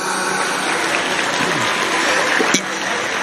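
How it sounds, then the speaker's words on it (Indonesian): Audience applause at a humorous Islamic religious lecture in Indonesia, a dense, steady wash of clapping from a sizable crowd throughout, with a brief sharper sound near the end. "tepuk tangan"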